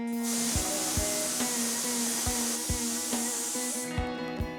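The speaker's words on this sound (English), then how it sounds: "cover it and let it pressure cook on low flame" A pressure cooker of sugary Jain-style dish on a low flame lets out a loud, steady jet of steam hiss that runs for several seconds, with a regular rattling tick of the weight underneath before the hiss cuts off.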